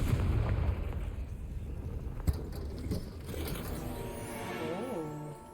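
Bombarda and Confringo spells go off in Hogwarts Legacy: rumbling blasts and a sharp burst mid-way, then swelling, rising magical tones fading out near the end.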